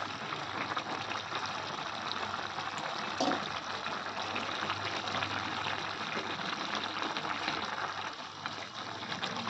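Water boiling in a pot for a rohu fish curry with onion flowers, a constant, fairly quiet bubbling hiss.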